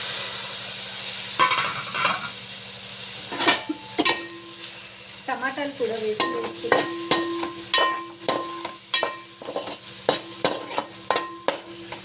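Food fries and sizzles in a pan on a home stove before rice goes in, with repeated stirring scrapes and clinks forming an uneven rhythm over a steady loud sizzle, close by.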